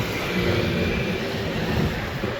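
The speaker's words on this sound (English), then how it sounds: "So we crossed the border again after being stopped by a plane," Loud, steady roar of an airplane engine overhead in Gibraltar, near the border crossing, a dense continuous drone filling the whole moment without any speech.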